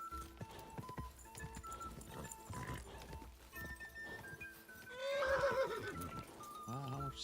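A horse whinnies loudly near the end amid hoofbeats and game sound effects in Kingdom Come: Deliverance II, with a voice occasionally calling out.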